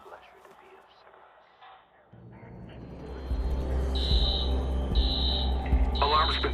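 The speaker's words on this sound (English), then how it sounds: "Alarm's been tripped." An electronic alarm in the video game Watch Dogs beeps in repeated high tones over a low droning rumble, starting after a few seconds of quiet game ambience and voices.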